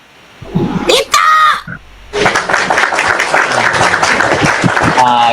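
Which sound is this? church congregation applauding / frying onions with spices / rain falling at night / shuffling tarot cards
church congregation applauding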